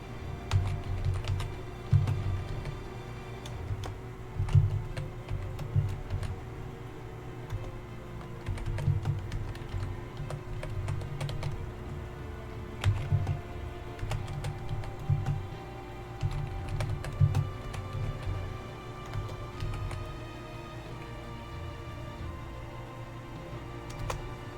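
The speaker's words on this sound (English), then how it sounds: "I'm typing on something." Steady computer keyboard typing runs throughout, with irregular clicks and bursts of keystrokes over a low background hum and no talking.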